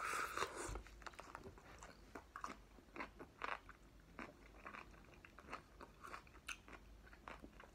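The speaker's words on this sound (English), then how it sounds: "I'm trying to chew it faster." Crisp, crunchy chewing of a pickle dressed with Tapatio hot sauce, close and fairly quiet, with repeated bites and crunches in an irregular rhythm and no speech.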